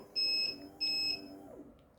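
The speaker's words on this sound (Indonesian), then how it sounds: "alarm ini akan berhenti ketika kita tekan tombol stop" The finish alarm of an OTORACK NX.050-100K traction machine sounds two clear, high electronic beeps, each lasting about a third of a second, close and alone against a faint mechanical hum.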